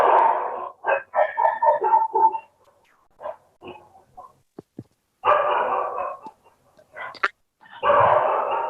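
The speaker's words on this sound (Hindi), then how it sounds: "बट पीछे आवाज आ रही है। कुत्तों की आवाज आ रही है," Dogs barking intermittently in the background behind an online talk, with short sharp yaps and bursts spread across the stretch at moderate distance, plus some clucking-like fowl sounds. No one speaks.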